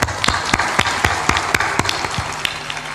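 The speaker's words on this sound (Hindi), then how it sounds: "ताली बजा दो इनके लिए" An audience claps at a spiritual discourse, a short burst of loose, uneven applause with distinct individual claps standing out, fairly close and steady throughout.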